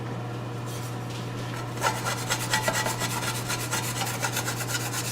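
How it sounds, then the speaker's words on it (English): A wooden spatula scrapes caramelized lamb fond off the bottom of a pan, a rough rasping rub repeated in quick regular strokes over a steady sizzle hum, close and fairly loud, no talking. "I want to get all this fond off the top, off the bottom of the plate. This yummy caramelized lamb. So I'm going to get a wooden spatula."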